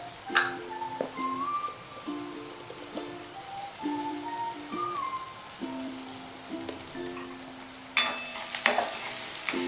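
Onions with salt frying in a pan, a steady soft sizzle with occasional spoon scrapes and a louder clatter near the end, while background music plays.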